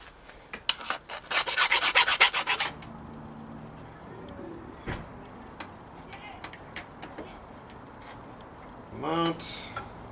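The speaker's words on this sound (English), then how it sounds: "give it a rub with the file" A metal file rasps against a turn signal part in a series of quick, close scraping strokes for the first few seconds, followed by scattered clinks of handling and a brief low voice near the end.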